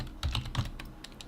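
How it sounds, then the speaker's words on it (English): A computer keyboard is tapped in a quick cluster of soft key clicks, pressing Control and C, followed by a few lighter scattered taps, near and quiet in an otherwise still room. "I'm just going to press Control and C on the keyboard to copy those"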